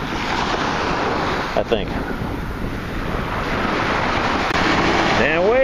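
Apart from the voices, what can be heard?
ocean waves washing onto black sand beach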